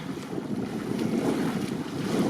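Steady wind and water wash with a low brushless electric motor drone running throughout, radio-controlled boats moving across choppy water nearby.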